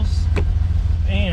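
A Ferrari 400GT idling after tuning, a steady low engine rumble close by, with a voice speaking briefly over it.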